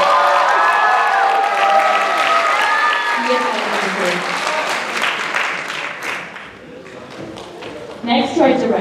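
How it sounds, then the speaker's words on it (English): Audience applause with some cheering at the Chinafest 2023 student performance, honoring the backstage crew; sustained clapping that thins out around the middle and then briefly swells again near the end. "Another round of applause for our backstage crew."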